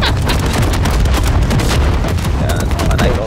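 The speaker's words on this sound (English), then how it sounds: "Fireworks galore." Dense, continuous barrage of booming and crackling explosions from in-game fireworks in Call of Duty Modern Warfare 3 Zombies, loud and close with rapid overlapping bursts throughout.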